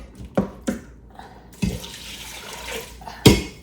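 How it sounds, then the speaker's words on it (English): Water runs into a pot while chicken and dumplings are being cooked, a soft rushing pour with a few sharp knocks and clinks, fairly quiet and close. "I'll top it up with some water."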